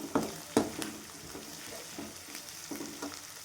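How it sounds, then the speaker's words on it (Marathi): Onion and spices sautéing in oil in a pan, a faint soft sizzle broken by a few sharp spatula scrapes and stirs, the first two loudest, with no talking. "छान कांदा आपला परतून घ्यायचा तांबूस कलर येईपर्यंत मसाले सर्व छान भाजून घ्यायचे"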